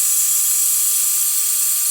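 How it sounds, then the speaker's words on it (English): Blow dryer aimed at a watercolor painting, a loud steady hiss of rushing air running continuously without pause. "I'm gonna hit it with a blow dryer."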